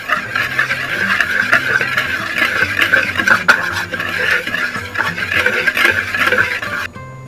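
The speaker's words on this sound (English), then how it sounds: "we'll simply just whisk this together just so it's evenly" A whisk stirs dry crêpe batter ingredients (flour, raw sugar, salt) in a bowl with quick, continuous, rhythmic scraping and tapping. It is close and fairly loud, stops abruptly near the end, and there is no talking.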